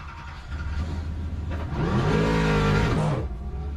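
A car engine revving and driving past close by, a rumbling low hum that swells into a louder rising whir and then fades, alone with no talk.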